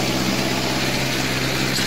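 Mahindra Arjun Novo 605 tractor engine running steadily at close range while pulling an Ambika rotary disc power harrow through a field, a continuous loud drone with no voices.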